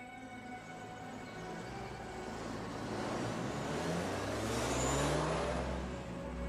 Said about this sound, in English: Nick trails her in his car, and there is a phenomenal chase scene